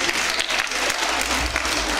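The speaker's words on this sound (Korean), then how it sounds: "박수 한번 주세요." Audience at an elementary school gathering applauds with a brief burst of steady clapping from many hands, moderately loud and close, no talk over it.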